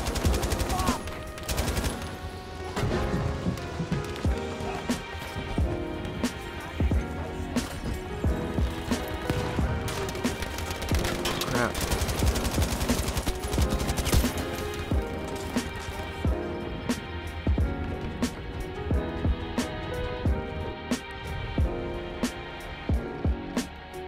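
Gold-skinned MG-34 machine gun in Battlefield V firing in long, rapid bursts with dense overlapping battle noise and explosions, loud and close, continuing for most of the stretch with brief pauses.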